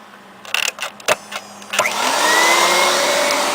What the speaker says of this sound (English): I'm using a Eureka home cleaning system canister vacuum with a 2 horsepower electric motor